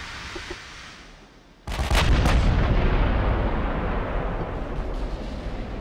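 A warship's big guns returning fire during a naval battle in Ultimate Admiral: Dreadnoughts: after a quiet lead-in, a sharp thunderous salvo cracks out, followed by rolling low rumbling blasts that linger loudly to the end.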